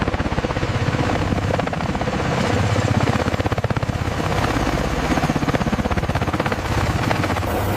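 A Bell Boeing V-22 Osprey tiltrotor aircraft lands, and its rotors give a loud, steady, close whump and thrum with a dense, even beat that carries on for the whole stretch.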